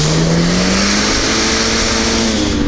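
An off-road car's engine revs hard and steadily on a Russian 4x4 outing, its pitch climbing slowly as the wheels spin in place. The loud, continuous drone holds throughout with no voices.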